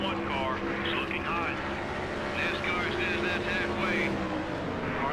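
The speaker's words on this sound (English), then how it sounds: "the engine is definitely damaged. It sounds a lot deeper" A damaged NASCAR race car engine in NASCAR Thunder 2003 on PS2 at Chicagoland drones steadily with a deep, rough, throaty tone, revs rising and falling slightly, while a voice talks over it throughout.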